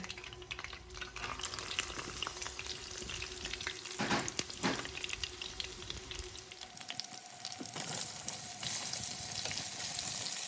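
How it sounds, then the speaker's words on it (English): Buttered mushrooms, 170 grams, fry in oil over high gas heat for a chicken mushroom bhuna, giving a constant bubbling sizzle with occasional stirring scrapes, close and steady, with no voices. "So when you fry it in the oil, it just gives it a lovely flavour and softens it all up"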